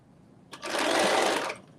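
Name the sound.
sewing machine sewing a basting stitch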